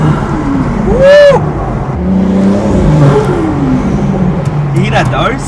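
A Stage 3 tuned BMW 440i with a B58 turbo engine and Pure 800 turbo upgrade revs and whirs, loud and close, with rising and falling engine sweeps and excited voices talking over it.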